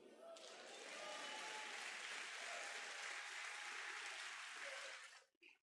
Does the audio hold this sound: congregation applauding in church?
yes